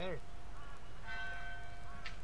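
A church bell rings in the physics puzzle game Human Fall Flat, sounding once or twice as sustained tolls under steady game background noise.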